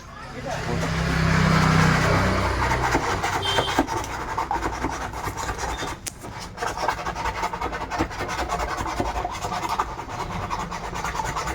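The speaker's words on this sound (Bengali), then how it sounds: "আমাদের এই পেপার দিয়ে এটাকে ঘষে দিতে হবে" Sandpaper rubs a speaker lead on a Sweeton 12-inch PT500 speaker with a steady rasping scratch that carries on continuously, near and fairly loud, with a brief pause partway through.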